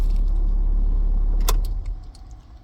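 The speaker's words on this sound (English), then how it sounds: "turn off the car" A car engine rumbles steadily and then winds down as it is switched off, with a brief bright jangle of keys midway and quieter key rattles after.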